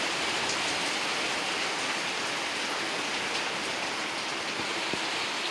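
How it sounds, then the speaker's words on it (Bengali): Heavy rain pours steadily as a dense, even hiss of drops on surfaces, constant and moderately loud throughout, with no voices. "এখন কি বৃষ্টি, দেখো কি বৃষ্টি করছে।"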